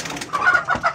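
A female pigeon nesting inside a cage gives a few short, close calls in quick succession, soft throaty bursts with brief pauses between them.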